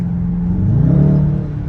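A 2022 Dodge Challenger R/T Plus on a night drive gives a steady close engine drone with a faint rising whine as it pulls, heard alone without talk.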